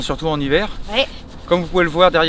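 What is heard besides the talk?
No everyday noise stands out behind the speech.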